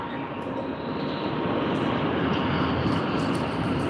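A Japan Airlines Boeing 777 departing Sydney for Tokyo Haneda produces a sustained, dense jet roar that builds slightly and holds at a moderate distance, with no voices over it.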